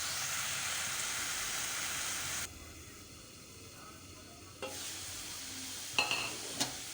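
Leafy greens (saag) frying in a pan without turmeric or spices, a soft steady sizzle that drops quieter partway, then light scraping stirs and a few utensil knocks.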